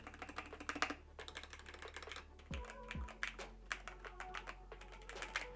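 Typing on a DrunkDeer A75 wired keyboard with magnetic switches: rapid, crisp clacks in quick bursts with brief pauses, close and clear, plus a couple of low thuds partway through.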